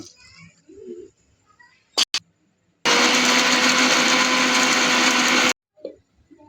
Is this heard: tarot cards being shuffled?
no